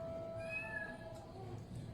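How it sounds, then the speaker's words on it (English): A cat meows in a home kitchen, one drawn-out, rising-then-falling cry, fairly faint and close, over a steady background hum with no talk. "I've got a cat crawling up my legs"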